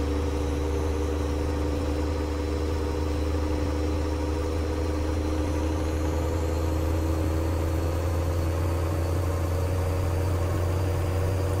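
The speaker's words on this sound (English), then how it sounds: "long time spooling up, especially if you got a hill, before you get a gear change" A vehicle engine drones steadily while the vehicle drives straight, spooling up slowly with a low, even hum and no gear change. The sound is loud and constant throughout, with no talk.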